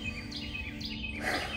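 Birds chirp and sing outdoors among trees, several short tweets repeating in quick phrases, faint and at some distance with no talking.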